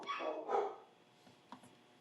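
A puppy barks twice in quick succession, fairly close and moderately loud, followed by a fainter short yip after a pause, with quiet background.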